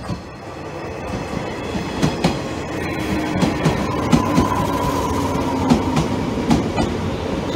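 A JR 115 series three-car local train rolls into a station steadily with rumbling and rhythmic clacking wheels, occasional sharp clicks and a faint squeal, growing slightly louder with no talking.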